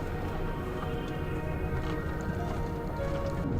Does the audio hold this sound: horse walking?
yes